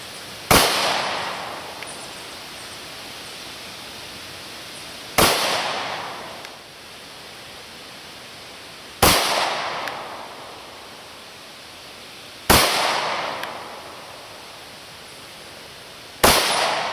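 Five sharp gunshots from a Kahr PM45 pistol fired at an outdoor range, spaced about four seconds apart, each a loud crack with a short decaying tail.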